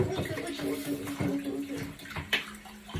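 Water runs and splashes steadily in a tub while a pet dog is bathed, close by, with a faint voice partly underneath.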